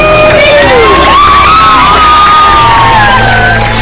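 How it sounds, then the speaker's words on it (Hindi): Airplane passengers erupt in loud shouting, whooping and cheering right after a safe landing, a dense crowd roar that fills the whole cabin and stays steady throughout. "और फिर सभी बैठे लोग जोर से चिल्लाए"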